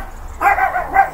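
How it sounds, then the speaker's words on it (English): A dog gives a couple of quick barks close by, one after another, after a brief quiet moment. "now my dog's gonna start barking."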